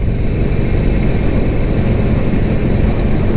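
A Harley-Davidson Forty-Eight Sportster cruises at 60 mph near 2,800 rpm, a steady, loud engine drone mixed with wind rush that holds constant throughout.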